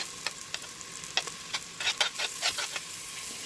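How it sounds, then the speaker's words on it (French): Onion, garlic and grated carrot fry in a pan over low heat, giving a steady quiet sizzle broken by scattered scraping clicks of stirring, close and fairly soft. "Je mets sur feu doux pour que ça ne crame pas et je laisse bien revenir le tout."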